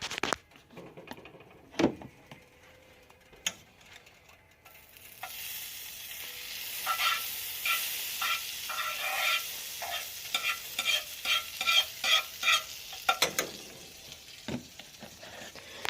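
Butter sizzles in a pan for pancakes, a soft fizzing hiss under a run of rapid scraping and tapping strokes from stirring, with a few sharp knocks early on and no talking.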